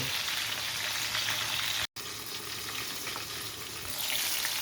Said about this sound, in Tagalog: Ganyan lang po guys ang magprito ng talong.